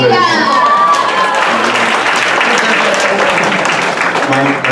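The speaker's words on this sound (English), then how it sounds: "Round of applause for Nia." A crowd at a founders' event claps loudly and steadily for a speaker named Nia, a thick continuous wash of applause with a voice briefly heard over it at the start.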